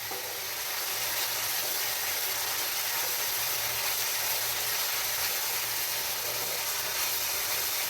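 Spice paste for parshe fish curry frying in oil in a pan with salt, turmeric and chilli powder, a steady, loud, hissing sizzle that runs unbroken and close throughout, with no talk.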